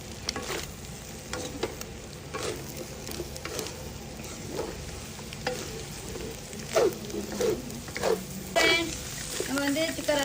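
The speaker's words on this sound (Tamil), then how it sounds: "போட்டு இந்த எண்ணெயோட கிண்டுங்க" Chilli powder stirred into hot oil in a pan sizzles softly while a spoon scrapes and clinks in irregular strokes, with someone talking over the frying.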